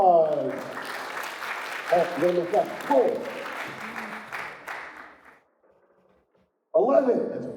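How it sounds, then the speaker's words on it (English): Crowd at a voice-actor convention panel claps in a short burst of applause, mixed with a speaker's voice and crowd chatter, then a brief silence before talking resumes. "Give her an applause."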